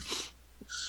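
Someone sneezes, a brief breathy burst followed by a second sharp exhale, close and fairly quiet, with no talk.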